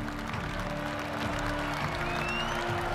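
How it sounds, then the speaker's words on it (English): Jubilant crowd outside the White House celebrating the Union victory, a dense wash of clapping and crowd noise, steady and moderately loud, with faint tonal sounds layered over it. "The jubilant crowd outside expected a celebration of the Union victory."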